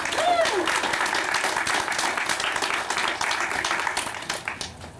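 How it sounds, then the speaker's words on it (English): Crowd applause at a Mayor's Walk Against Domestic Violence ceremony, dense steady clapping from many hands that thins slightly toward the end, with a brief voice or tone near the start. "please give yourself a round of applause for being here this morning"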